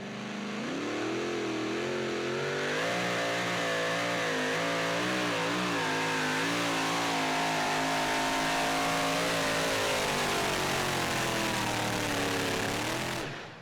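A 2015 super modified two-wheel-drive pulling truck at a Saluda, South Carolina pull drags the sled on dirt, its engine roaring loud and near with a long sustained pull. The pitch climbs, wavers under load, then cuts off abruptly at the end.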